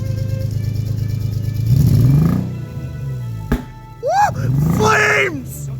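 An old car with no battery, still running on its original motor, idles and then revs in rough bursts with a sharp pop between them, loud and close, while people talk and exclaim over it.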